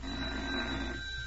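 An old-fashioned telephone bell ringing in a vintage radio comedy, a steady continuous ring heard faintly over a hissy background.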